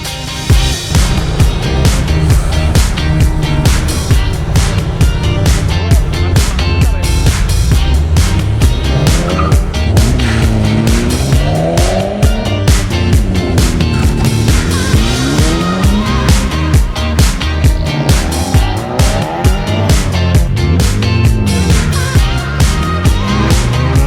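Honda Type R cars racing hard on a track day, their engines loud and continuous, revving and shifting with tires squealing throughout and no pause in the roar.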